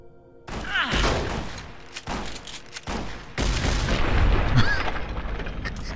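Repeated gunfire bursts in the video game Fallout New Vegas, loud and close, with heavy booming shots and thuds spread across several seconds.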